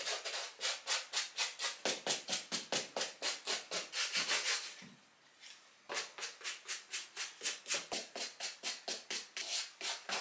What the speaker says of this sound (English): you want to prep your suede by using a good suede brush and just going through it and wiping any excess dirt off